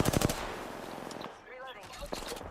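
Gunfire strikes the player in a video game, with a rapid burst of shots at the start followed by quieter bursts and electronic effects.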